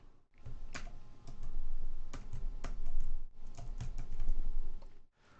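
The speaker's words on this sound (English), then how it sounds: "even if I press WASD keys, the character doesn't respond while game is paused" WASD keys on a computer keyboard are pressed in quick, irregular bursts of close clicks for a 2D Java game, separated by short pauses.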